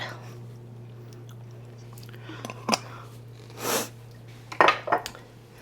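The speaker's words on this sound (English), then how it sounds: "And I'm trying to shake all of it out." A 24-ounce can of Pace Picante original mild sauce is shaken and tapped to empty it: a few short, close knocks and clatters with a soft sloshing burst between them, no talking.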